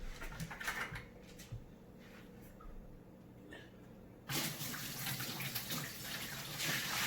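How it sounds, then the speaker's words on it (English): Water pours and splashes steadily onto a plate in a 32.5-gallon Fluval aquarium, quiet at first and then louder and fuller as the flow increases partway through. "So I'm going to start adding water."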